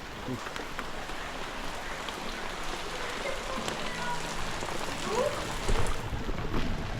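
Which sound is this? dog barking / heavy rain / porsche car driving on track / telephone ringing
heavy rain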